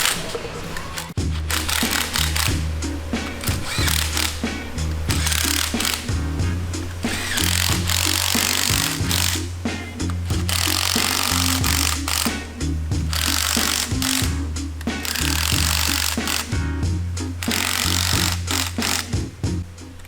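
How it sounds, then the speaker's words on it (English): Bolts with cone washers being driven into beveled holes on a monster truck, a loud power tool buzzing in repeated bursts with short pauses between, close by and continuous over a noisy workshop. "So I'll get our bolts with our cone washers for these beveled holes. Get all these started. I'll just slowly go around."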